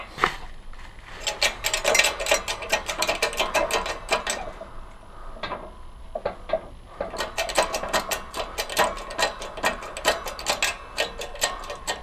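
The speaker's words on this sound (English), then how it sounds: "So let's just go ahead and press this bad boy in." Rapid, steady clicking runs close by as a part is pressed into a Blade Z Moby X 26cc gas scooter with a 19mm socket. The clicking pauses briefly partway through, then resumes in a dense, even rhythm.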